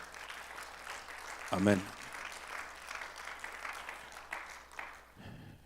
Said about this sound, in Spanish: ¿No le da un aplauso al Señor por eso?